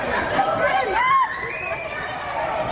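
A panicked crowd fleeing along a Barcelona street after a deadly terror attack makes a dense wash of shouting voices and running commotion, loud and close, with a sharper cry rising out of it.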